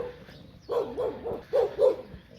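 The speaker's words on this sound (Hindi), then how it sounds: "मोनालिसा मुझे देख के भौंकना शुरू हो गई है।" A female dog named Monalisa barks repeatedly at a person approaching from a distance, several sharp, fairly close barks in uneven bursts, with a little whimpering between them.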